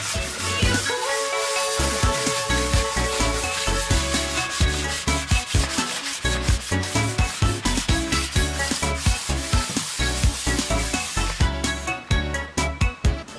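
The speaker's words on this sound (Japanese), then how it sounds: "天板用の板もサンドペーパーで磨きます。" Sandpaper works a wooden board for a tabletop in rapid back-and-forth rubbing strokes, close and loud with a steady rhythm and no talking.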